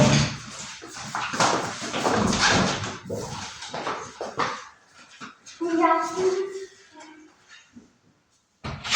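A dog whimpers and yips in a home, its high whining cries rising over people talking nearby, followed by a short quiet pause.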